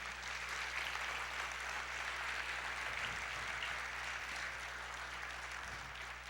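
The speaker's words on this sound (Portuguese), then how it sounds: "Vamos aplaudir ao Senhor." Church congregation applauding during a Portuguese-language sermon, a steady, faint wash of clapping heard from a distance over a constant low hum, continuing evenly without breaks.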